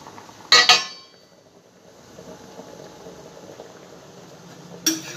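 Potatoes boil in a pot in a home kitchen with a low, steady bubbling hiss, and two sharp clinks of a metal pot or lid are heard near the start and the end.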